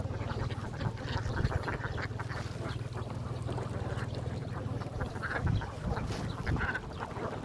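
A large flock of ducks, thousands of them, quacks continuously in a dense overlapping chorus, loud and close with a steady low hum underneath.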